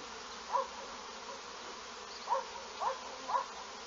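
Honeybees flying around hives outdoors, a faint continuous buzzing with a few brief louder passes of single bees close by.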